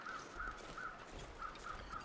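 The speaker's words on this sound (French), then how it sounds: "Oh les corbeaux, foutez rien." Crows cawing in The Long Dark, a run of harsh, evenly spaced caws in two short bursts, moderately near over a faint wintry ambience.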